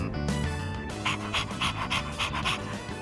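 A dog in the video game Persona 3 Reload pants rapidly in short, even breaths. It is close and moderately loud and sounds alone over a soft tonal background.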